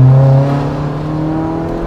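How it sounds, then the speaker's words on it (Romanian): Interior sound of a modified VW Bora's loud exhaust during a short pull in second gear, a deep droning engine note with a strong low tone that rises briefly and then settles into a steady heavy hum. "Ia deși un mic demaraj cu a doua, sunt curios de cum se aude evacuarea interior."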